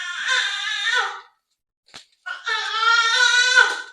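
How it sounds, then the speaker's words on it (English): Loud, close, high-pitched babbling and squealing comes from a hyper baby in a home kitchen. Two long vocal bursts are separated by a short pause with a brief blip. "Excuse my baby in the background."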